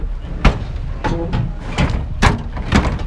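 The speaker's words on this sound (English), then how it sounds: "Oh no, the door fell off." A metal door falling off and crashing to the ground at a New Jersey scrap yard, heard as several loud clattering impacts spread over a few seconds, close by and without speech.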